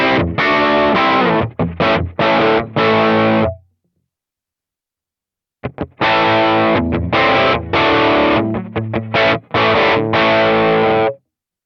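A heavily distorted electric guitar played through a Kemper liquid profile amp model, choppy chords and riffs in two bursts with a few seconds of silence between them, close and loud with no talking.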